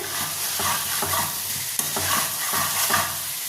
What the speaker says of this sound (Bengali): এটাকে কিন্তু আমি 1 মিনিট অন্তর অন্তরে ভালো মতো নাড়িয়ে দিচ্ছি, যাতে নিচের দিকটা ধরে না যায়।